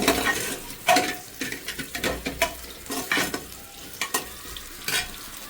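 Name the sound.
soybean frying and stirring in pan for veg biryani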